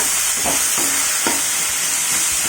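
Tomatoes sauté with salt in a hot pan, a constant loud sizzle broken by a few scraping stirs of the spatula, with no voice over it.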